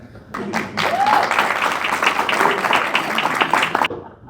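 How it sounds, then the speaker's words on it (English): Audience applause at the 2024 Magic Live award dinner in Las Vegas, a full round of clapping that swells quickly, holds steady with a few voices and cheers, then stops abruptly. "give him a big round of applause up here"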